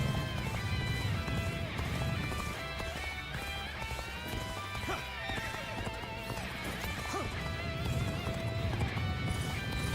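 Horse galloping in the video game Dynasty Warriors: Origins, steady clip-clop hoofbeats and occasional whinnies running continuously under a dense, loud battle soundtrack and music.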